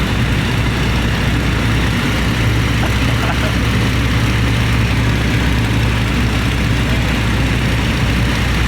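A small propeller plane's engine drones steadily in cruise flight while flying in formation with a chase plane, a loud, constant low hum with airy wind noise throughout and no talk.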